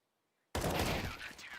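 Dense burst of video game gunfire erupts after a half-second of silence and holds loud and continuous, an AWP sniper rifle shot amid rapid fire during an esports match.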